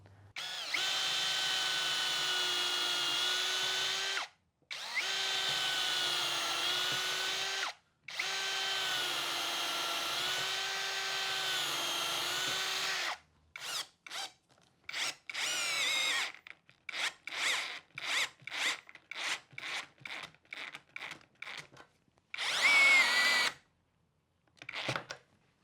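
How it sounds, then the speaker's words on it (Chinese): A power drill drives screws into a century-old hardwood beam. Long, loud whining runs give way to many short, choppy bursts, heard up close with no talking. "那现在我要使用螺丝来把它固定。"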